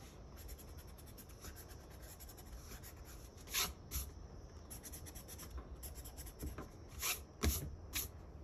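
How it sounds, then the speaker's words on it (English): Close, papery rubbing of an eraser scrubbing out a pencil line, coming in quick bursts of back-and-forth strokes with short pauses between them, and no voices. "Come back and erase my pencil line."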